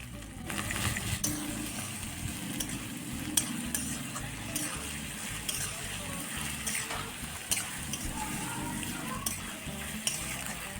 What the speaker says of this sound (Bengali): তারপরে কেটে রাখা পেঁয়াজগুলো আস্তে আস্তে দিয়ে দিল আর ভাজতে শুরু করলো